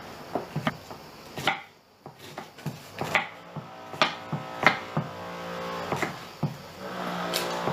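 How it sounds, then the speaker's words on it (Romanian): A knife chops pineapple into cubes on a cutting board, with sharp, irregular knocks close by and short pauses between strikes. "îl tăiem cubulețe"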